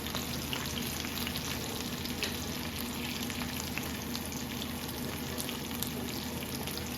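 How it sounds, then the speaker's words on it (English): Chicken thighs frying in a pan until brown, a soft, steady crackling sizzle that runs continuously at a moderate distance with no voices. "we're going to let those cook again until they're brown"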